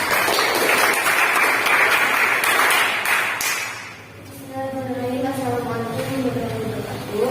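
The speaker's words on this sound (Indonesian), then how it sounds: "Beri tepuk tangan untuk kelompok 3." Classroom applause for a student group fills the first four seconds as dense, loud clapping, then fades while voices take over, talking near the recording.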